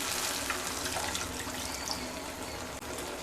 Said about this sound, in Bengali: পরিমাণ মতো জল দিয়ে দেব।